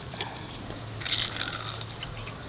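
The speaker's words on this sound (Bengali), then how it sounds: "কাঁটা শুধু চিবিয়ে খেয়ে মচমচে আওয়াজ" Crisp fried katla fish bones, seasoned with pepper, black salt and lemon, are chewed up close, making a steady run of brittle crunches with a louder burst midway and no talking.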